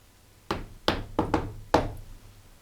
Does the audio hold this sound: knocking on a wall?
yes